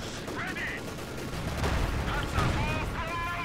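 Machine gun fire from Soviet DShK machine gun nests in Company of Heroes 2, rapid gunfire and crackling bursts in a wartime strategy battle, moderately loud, with a voice talking over parts of it.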